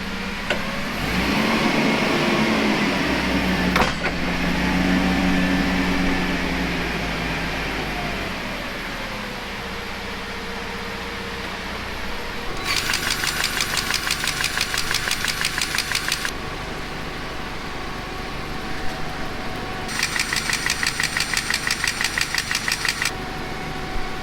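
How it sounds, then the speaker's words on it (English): A truck arrives for an onion-moving job, its engine rumbling loudly then settling to a steady idle, with bursts of rapid rattling clatter from machinery, no talk. "First truck's here."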